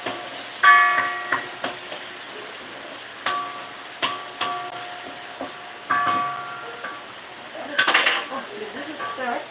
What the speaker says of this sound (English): I'm going to use my wooden spoon.